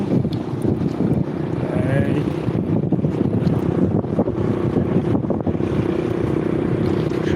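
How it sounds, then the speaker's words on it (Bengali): Sea waves at Inani beach, Cox's Bazar, wash in as a steady low rumble mixed with strong wind buffeting the microphone, a continuous roar at dusk with no clear voices. "এই যে সমুদ্রের ঢেউ"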